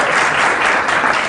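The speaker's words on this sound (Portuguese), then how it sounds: "Palmas." Studio audience on a Brazilian TV humor program bursts into steady, dense applause, loud and close, with no talk over it for the whole stretch.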